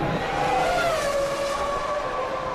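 Formula One race cars at the 2000 Canadian Grand Prix, Hakkinen's McLaren closing on Villeneuve, scream past as a continuous high-pitched engine whine with a falling pitch glide, loud and close with no talk.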